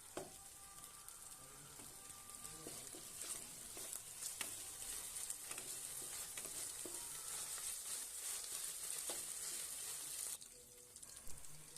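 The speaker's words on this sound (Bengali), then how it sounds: "টমেটোগুলো এবার এরপর দিয়ে দেবো, দিয়ে নাড়তে থাকবো একটুক্ষণ," Chopped tomatoes sizzling in hot oil in a pan for Bengali aloo dum, a steady bright frying hiss with occasional spoon scrapes and knocks, close and continuous.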